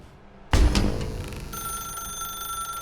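In the video game The Stanley Parable, a telephone starts ringing with a sudden loud clanging onset and then a sustained, bright electronic ring that carries on steadily to the end, no voices.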